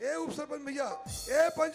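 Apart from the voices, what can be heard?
No everyday noise stands out behind the speech.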